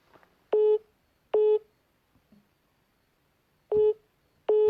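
Telephone line tone while placing a call: four loud, steady beeps of equal length, two close together, a long gap, then two more, with nothing else on the line.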